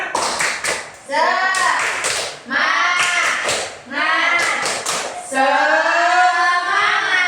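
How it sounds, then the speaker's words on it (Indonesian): Children in a classroom perform a rhythmic 'tepuk semangat' clapping chant, with bursts of sharp, patterned claps and chanted voices recurring in several close, loud phrases. "Kita coba tepuk semangat dulu. Tepuk semangat."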